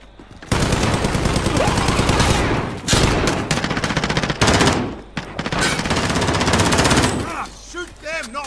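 Automatic gunfire from Warzone rings out in loud, sustained bursts that keep breaking off and starting again, with brief gaps in between. A few voices come in near the end.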